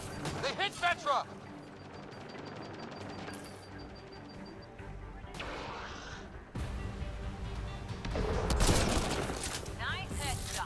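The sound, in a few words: gunfire in the video game Mass Effect: Andromeda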